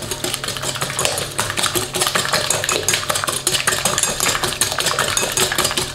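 Whole eggs and sugar are beaten together for chocolate muffins, a dense fast whirring buzz of an electric mixer running steadily through the whole stretch, close and loud with no talking.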